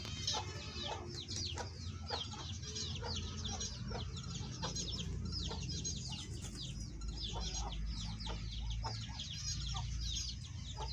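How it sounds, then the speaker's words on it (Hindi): Chickens cluck and chirp continuously with a rooster among them, a busy, steady farmyard chorus with birds in the background and no talking. "ये मुर्गा है जी"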